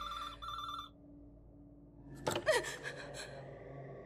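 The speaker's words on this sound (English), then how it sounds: "If I don't pick up, it'll keep on ringing." A telephone bell rings in a video game demo, two clear trilling bursts up front, followed by a sharp gasp and breathy, startled sounds as the ringing stops.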